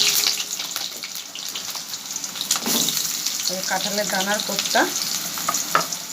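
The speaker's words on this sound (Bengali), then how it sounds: "এবার আলুটা ভাজা ভাজা করে তারপরে মশলাটা দিয়ে দেবো" Potato pieces frying in hot oil with whole bay leaf and cumin, a loud, close sizzle with stirring clatter throughout, while someone talks over it.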